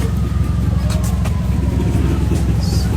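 Dense road traffic in Philippine congestion near a Disneyland outing: a steady low engine drone of cars and buses with faint horn-like tones, continuous and loud, with voices murmuring underneath.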